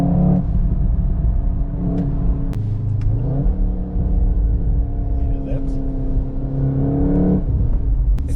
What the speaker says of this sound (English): So that's why you got that massive popping sound as the gear changes.